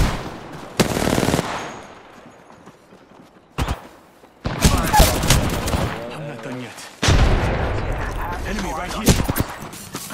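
Enemy gunfire in Apex Legends, loud bursts of rapid automatic shots arriving in several separate volleys with gaps between, mixed with game sounds.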